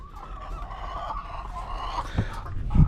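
Rhode Island chickens clucking softly close by in a pen, with a couple of louder low thumps near the end and steady background noise.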